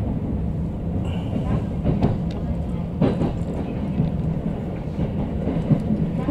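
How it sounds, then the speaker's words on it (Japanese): A Tokaido Line local train bound for Numazu runs along the rails at night, with steady loud rumble and rhythmic wheel clatter on the joints, clicks recurring every second or so, continuous throughout. "ご乗車の列車は東海道線普通列車の沼津行きです。"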